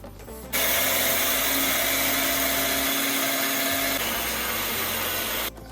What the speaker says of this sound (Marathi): सगळा मसाला मिक्सरवर एकदम बारीक पावडर करून घ्यायची